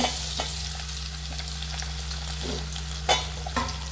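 Green chilies fry in hot oil with a steady close sizzle while mango pieces are added and stirred in, a few scraping clicks of the spoon breaking through the continuous frying.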